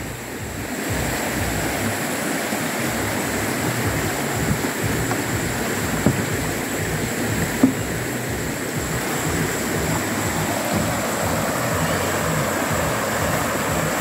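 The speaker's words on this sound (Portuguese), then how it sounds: "Esse barulho d'água transmite uma paz que você não faz ideia." River water flowing beside a rural riverbank, a continuous broadband rushing hiss at steady loudness with a couple of faint knocks, no voices.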